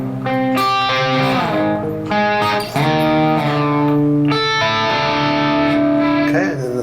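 Distorted electric guitar plays a riff, with sustained, ringing notes changing steadily over several seconds, loud and alone.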